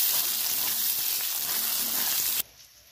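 Onion, ginger-garlic paste and chopped tomato sizzling loudly in hot oil for a chicken curry, a dense continuous hiss that cuts off abruptly near the end, leaving quiet background.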